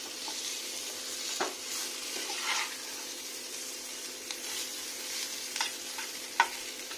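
Eggplant sizzles steadily in a frying pan, a constant hiss broken by occasional scrapes and knocks of a utensil stirring the pieces.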